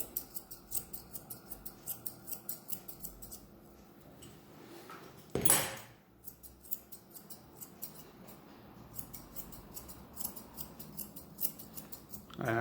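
Small inexpensive grooming scissors snip steadily through a Bichon Frise's fur, a quick run of close, crisp metallic cuts with a brief louder rustle partway through and no talking.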